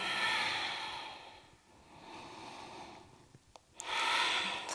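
Slow, audible breaths drawn in and let out while holding an Ashtanga yoga pose, soft and close with a quiet pause between inhale and exhale, no talking.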